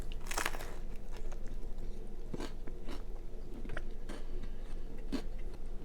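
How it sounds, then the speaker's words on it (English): Close, wet chewing and crunchy bites into a sandwich, with irregular bursts of mastication over a steady background noise. "It's gonna be a lot of chewing."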